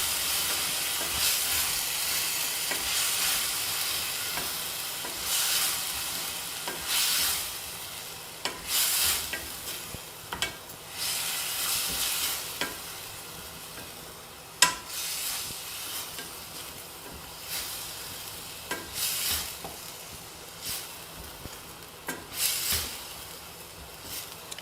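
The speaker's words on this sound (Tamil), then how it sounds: "இதையும் பச்சை வாசனை போகிற வரைக்கும் வதக்கிக்கணும்." Green chilli and garlic paste sautéing in a pan for millet pulao: continuous sizzle broken by repeated scraping stirs of a spatula, close and fairly loud, with no voices.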